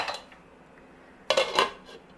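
A metal knife clinks and scrapes against a pot while stirring chicken soup, a few faint taps followed by two brighter clattering knocks near the end.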